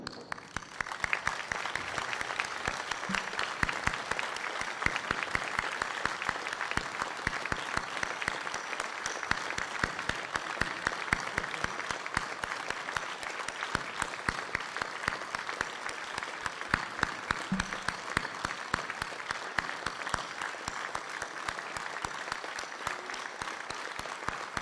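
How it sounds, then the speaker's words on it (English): Sustained applause from an audience standing in remembrance of absent members at the 2024 EPFA Champions Cup, steady clapping filling the hall for the whole stretch without a break. "For a moment's applause, please."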